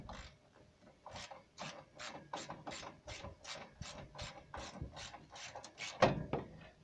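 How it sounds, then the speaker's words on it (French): Small wrench ratcheting a grille fastener on a Rolls-Royce Silver Spirit: a steady series of about fifteen crisp metallic clicks in an even rhythm, close and fairly quiet, ending with a slightly louder clack. "il faut utiliser une clé, on va dire assez petite, comme celle-là, celle que j'ai là, ou une clé plate"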